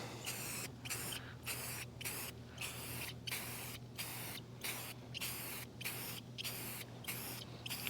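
Rust-Oleum spray paint hisses from an aerosol can in repeated short bursts, about a dozen evenly spaced sprays with brief gaps, close and steady, outdoors in the sun on a windy day over a low hum.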